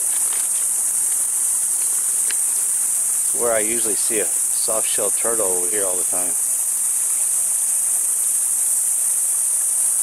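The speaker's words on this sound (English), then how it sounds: "Cicada bugs, I think that's what they're called, cicadas" Steady, loud high-pitched cicada buzzing after monsoon rain, a continuous drone running the whole time, with someone talking over it in the middle.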